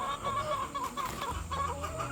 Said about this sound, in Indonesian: hiruk pikuk suaranya. Ya begitulah ayam bertelur.